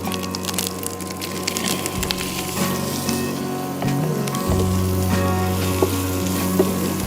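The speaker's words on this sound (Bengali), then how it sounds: "এরপর আমি চিংড়িটা দিয়েই ভাজবো" Prawns frying in a pan for Bengali masala prawn rice, a steady crackling sizzle with scattered pops and clicks of utensils, heard alongside a low electrical hum.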